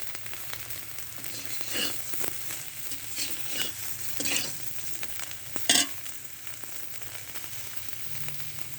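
Soybean chunks fry in hot oil and are stirred in a pan, giving a steady soft sizzle broken by scraping strokes of a spoon, close and fairly quiet, with no talking.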